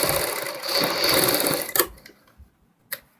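A sewing machine running a steady whirring stitch along a readymade saree, then stopping abruptly with a couple of sharp mechanical clicks and a brief quiet gap.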